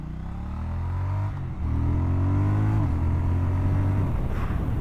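A 2025 Triumph Speed Twin 1200RS twin-cylinder motorcycle engine revs up while riding, a loud, steady drone with rising pitch sweeps and a brief dip between throttle pulls.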